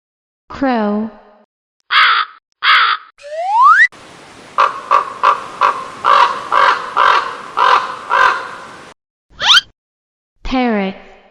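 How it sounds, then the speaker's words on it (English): A crow caws harshly several times in a rhythmic series, loud and near. Short spoken voices come before and after the calls. "Crow."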